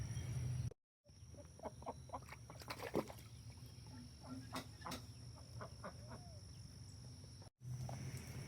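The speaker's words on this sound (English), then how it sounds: "all the other chickens have decided to come in here and start laying their eggs under there." Hens clucking and murmuring in an enclosure where they lay eggs, with short calls scattered over steady low background noise and two brief dropouts.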